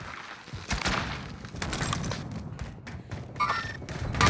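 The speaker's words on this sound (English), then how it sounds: "Frag incoming." A frag grenade goes off during a Call of Duty match, a muffled thud among scattered gunfire and game noise, fairly close and mid-level, with a burst of impacts near the end.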